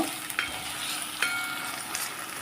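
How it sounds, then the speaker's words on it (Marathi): Garlic ginger paste sautés in hot oil with a steady close sizzle, broken by a few brief stirring clicks and scrapes, and no voices. "लसूण अद्रकची पेस्ट घालून घेऊया हे परतून घेऊया आपण चांगलं"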